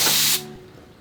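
A spray bottle or air spray blasts batting lint off a quilting table in one loud, steady hissing burst lasting about a third of a second, then cuts off into quiet.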